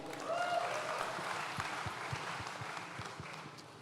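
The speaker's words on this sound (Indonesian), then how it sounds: "Boleh minta tepuk tangannya?" Audience applause at a live roast event with Anies Baswedan, a broad steady wash of clapping with scattered low thumps, holding at moderate level for several seconds before easing slightly.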